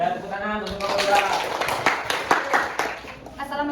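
A classroom audience at a 2023 teacher-training session at Universitas Muhammadiyah Palembang claps for group 2. A brief burst of scattered hand claps mixes with voices talking nearby.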